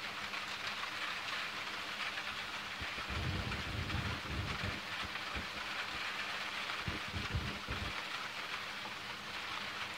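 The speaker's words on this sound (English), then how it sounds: "It's been a while we had a thunderstorm like this. Heavy rain, lightning like this." Steady heavy rain hisses down in Crestline, California, while low rumbles of thunder roll through in the middle, distant and deep beneath the constant downpour.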